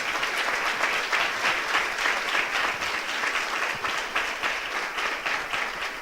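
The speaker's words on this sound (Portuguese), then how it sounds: "Você pode aplaudir o nome do Senhor?" A church congregation bursts into sustained applause during a sermon, a dense and steady wash of many hands clapping at close range with no talking over it.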